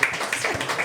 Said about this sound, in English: Let's give Olivia a round of applause.